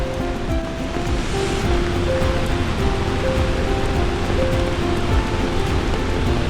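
Steady rushing water roars without pause, a dense broadband wash like a waterfall heard close by, with no voices. Girmal waterfall in Dang, Gujarat.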